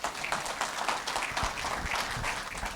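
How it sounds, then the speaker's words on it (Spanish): An audience at a mining networking event applauds to welcome a speaker, a dense sustained patter of many hands clapping throughout. "con un gran aplauso le damos la bienvenida a Sergio"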